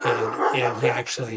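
Dogs in a home setting yip and bark in short bursts behind steady close conversational speech, the animal sounds partly masked by the talking.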